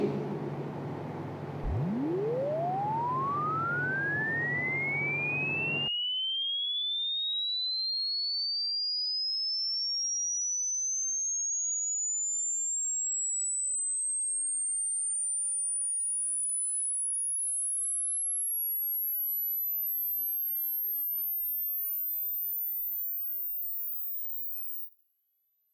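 A pure sine test tone for checking the audible frequency range sweeps smoothly upward from very low to the top of hearing, continuous and steady for over twenty seconds, faint background noise dropping out early, no voices.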